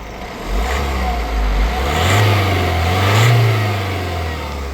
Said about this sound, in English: What I'll do now is I'll give it a rev, first from the inside of the vehicle.